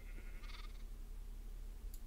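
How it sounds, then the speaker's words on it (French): Baby sheep in Minecraft give a short high-pitched bleat, faint and brief, over a low steady background hum, with a tiny click near the end. "J'ai des bébés moutons."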